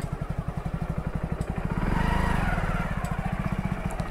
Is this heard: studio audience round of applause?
no